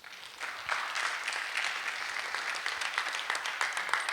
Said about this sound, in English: can athletes, we just give a round of applause for those two people who have supported you